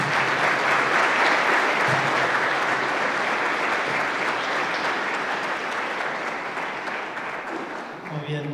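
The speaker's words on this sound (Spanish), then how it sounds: "Un fuerte aplauso." Loud, dense applause from a congregation on the final night of a novena to the Virgen del Carmen, a steady wall of clapping that slowly fades toward the end as voices emerge underneath.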